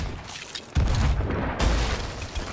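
Deep booms of ship cannon fire in the pirate video game Sea of Thieves, two heavy blasts over constant background noise.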